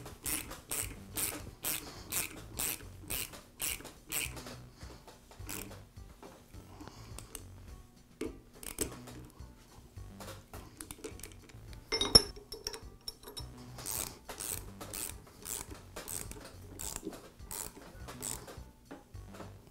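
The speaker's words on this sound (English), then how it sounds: "I'll line the jaws with the holes on the vise and secure them with the screws." Screws are driven in to fasten new reversible jaw inserts onto a Wilton vise, giving rapid bursts of metallic clicking and ratcheting in repeated runs, with one sharp clink midway.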